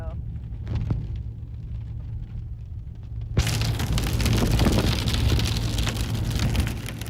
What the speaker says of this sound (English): Is that the rain? It's a weird sound for rain.